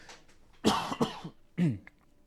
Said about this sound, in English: I've had a weird cough today